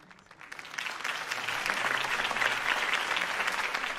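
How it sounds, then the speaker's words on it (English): Crowd applause follows a campaign speech for Harvey Dent in Batman: The Telltale Series, a dense wash of clapping that swells within the first second and then holds steady and full. "If only Mr. Wayne, my campaign's largest backer, could have heard that applause"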